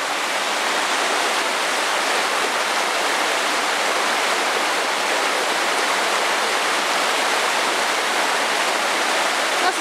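A waterfall and stream, running high with mountain ice melt, pour in a steady, loud, unbroken rush of water that fills the whole clip with no voices.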